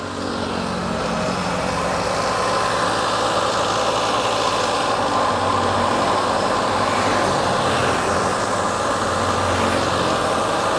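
A Toyota Xenia engine idles steadily with its radiator fan spinning, a constant mid-range hum and whir that stays even and close throughout, with no talk.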